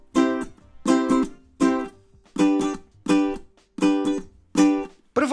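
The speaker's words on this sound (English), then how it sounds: "So I've recorded the acoustic sounds from the ukulele in this stereo recording" A Populele 2 Pro acoustic ukulele strummed and captured with a stereo microphone, playing about seven bright, separate chords in a steady rhythm, each ringing briefly before the next strum, close and clear with no voices.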